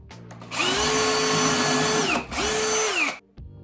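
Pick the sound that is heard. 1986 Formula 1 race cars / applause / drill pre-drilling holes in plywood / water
drill pre-drilling holes in plywood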